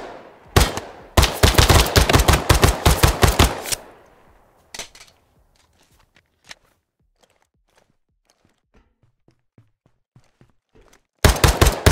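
Rapid bursts of gunfire from the tactical shooter video game Ground Branch, a loud sustained volley over several seconds followed by scattered faint shots and sounds, then another loud burst at the end.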